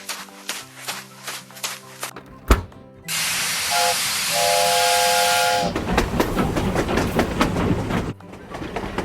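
In a train cartoon, a steam locomotive whistle sounds in sustained tones over a loud hiss of escaping steam, framed by rhythmic chuffing and clanking, with no talking.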